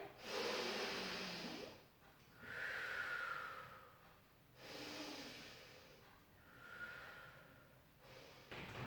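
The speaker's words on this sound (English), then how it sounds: "Take a breath in." Slow, deep yoga breaths taken close to the microphone, with long airy inhalations and exhalations alternating in a steady rhythm of about three full cycles, breathy and soft against quiet surroundings.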